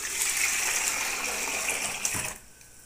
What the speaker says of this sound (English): So in your boiling water, you want to add half of your sieved kunu.